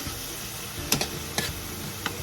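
Stirring mushrooms in a pan while cooking at home, a few light scraping clicks of a utensil at irregular intervals over a steady sizzle.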